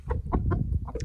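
Brahma and Cochin hens cluck softly in a short run of low, close notes from a backyard flock, with no voices over them.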